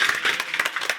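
A crowd at a political meeting of a nationalist campaign in Nepal claps in a brief, dense burst of applause, many overlapping hand claps close by.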